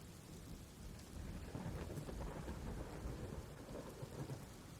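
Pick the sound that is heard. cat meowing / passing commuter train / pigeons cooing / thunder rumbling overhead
thunder rumbling overhead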